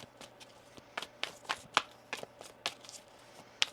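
A deck of cards is shuffled by hand at close range, giving a quick run of crisp riffling snaps and slaps in an irregular rhythm, loud and clear with no talking over it.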